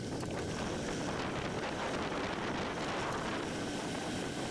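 Steady wind buffets the microphone while a rider races a masters criterium on an open straight, a continuous loud rushing roar without speech.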